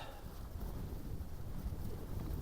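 Wind gusting at a mountain summit camp, a steady low rushing roar buffeting the microphone, continuous and fairly close with no voices.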